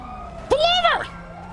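A police siren in GTA 5 sounds one short rising-and-falling whoop, close and loud, over a low engine drone.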